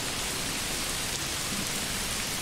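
In the medieval city-builder Manor Lords, a constant wash of rainfall pours down as an unbroken, fairly loud hiss that barely changes from start to finish, with no speech.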